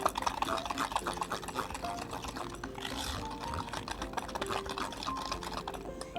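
Biscuit dough being worked together with ghee using a spoon, a steady run of close, soft scraping and mixing strokes in a bowl with no voices.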